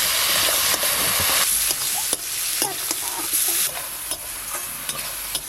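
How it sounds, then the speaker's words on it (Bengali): Mustard gravy for hilsa fish simmering and spluttering in a pan, a dense continuous sizzle and bubbling with several sharp scrapes and knocks of a spoon stirring, close and loud without speech. "সর্ষে ইলিশের জন্য গ্রেভিটা খুব ভালো করে ফুটে গেছে, একদম টকবকে হয়ে"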